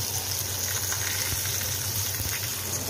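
White pomfret masala fish frying in hot oil, a steady, even sizzle and crackle that runs unbroken at a moderate level throughout.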